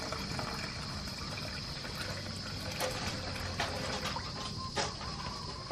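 Dark banaba drink being poured from a container, a steady faint liquid trickle running for several seconds with no talk over it.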